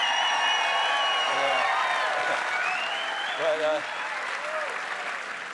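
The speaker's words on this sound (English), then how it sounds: "Can we just applaud the fact that Kristi Noem is out of a job one more time?" A studio audience at a political talk show applauds and cheers, dense clapping with whoops and tonal voices rising over it, loud and sustained before tapering off near the end.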